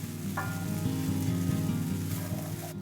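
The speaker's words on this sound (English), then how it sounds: "Saute for 4 to 6 minutes to get a little bit of a nice crispy crust." Crumbled tofu mixed with umami powder sizzles steadily in a hot pan, a soft, close, continuous frying crackle with a low hum underneath and no talking.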